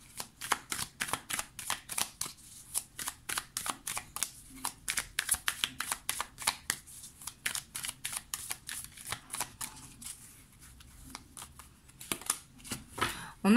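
Tarot cards being shuffled and drawn by hand, a long run of quick, crisp riffling snaps in an even rhythm, close and fairly soft, with a faint voice now and then.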